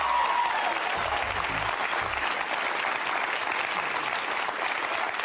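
Sustained applause from a large studio audience at a live televised panel discussion, steady and dense clapping throughout without pause.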